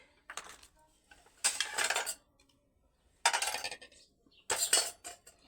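A metal lid is set onto a cooking pot of curry in a village kitchen, making several short, close clattering clanks of metal on metal separated by quiet pauses.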